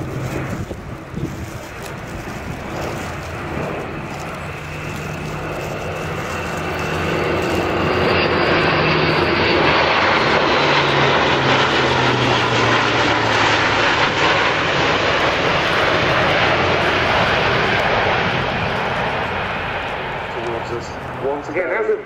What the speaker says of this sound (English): This one of the Airbus test aircraft.